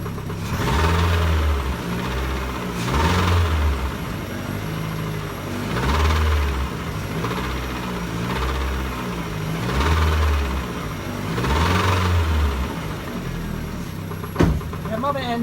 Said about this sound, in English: Now the car is running.